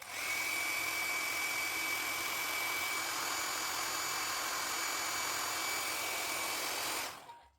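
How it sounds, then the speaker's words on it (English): A hair dryer drying watercolor paint blows with a loud, steady whirring rush and a faint high whine, running nonstop for about seven seconds before it clicks off abruptly; no talking. "if I try with my hair dryer"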